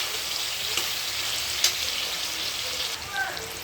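Onions frying in oil in a wok for a mutton curry, a soft steady sizzle with occasional faint stirring clicks, fairly quiet and close, with no talk over it.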